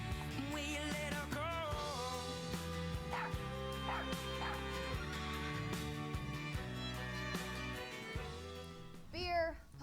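A puppy yips, whimpers and barks in a Super Bowl beer commercial, short bright cries rising over a constant music soundtrack, with a louder burst of yelps near the end.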